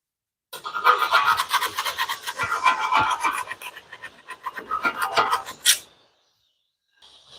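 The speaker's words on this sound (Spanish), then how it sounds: "Voy a limpiar un poco de suciedad que puedo observar allí." Rough, rasping scraping strokes clean dirt off an Eaton truck rear axle, close and loud for about five seconds, ending in a sharp scrape before silence.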